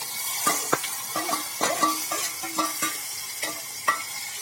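Whole cumin, asafoetida, chopped tomato and dried onion frying in oil for a black-eyed bean curry gravy. A soft sizzle runs under repeated spoon scrapes and light clinks against the pan, close by, with no talking.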